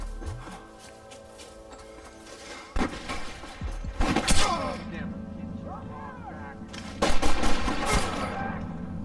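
Gunfire in a Red Dead Redemption village fight, with scattered shots and heavier bursts that swell around the middle and again near the end over a rumbling background, with voices shouting between the shots.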